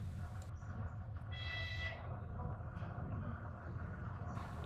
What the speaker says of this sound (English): The train is being pulled in by a Russian locomotive